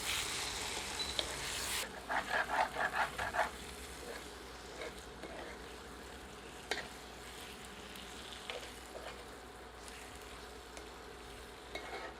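Chicken masala with slit green chillies cooking over low heat in a covered pan, a soft sizzle with a few brief louder bursts of frying and faint clatter, quiet overall.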